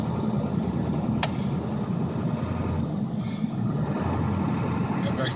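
A 2002 Ford F-250 pickup engine in four-wheel drive pushes through a snow drift during a snowstorm, a steady low rumble continuous throughout with a brief click near the start, and voices talking over it.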